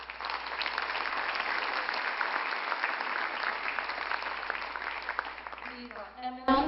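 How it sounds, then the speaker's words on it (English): Sustained audience applause at a Trinidad and Tobago Indian Arrival Day celebration at UTT, honouring award recipients; steady dense clapping fills the hall throughout, with a voice beginning to speak just as it fades at the end. "let us give them another round of applause"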